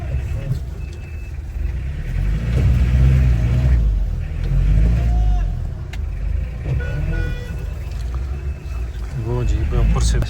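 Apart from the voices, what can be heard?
jeep engine revving while stuck in mud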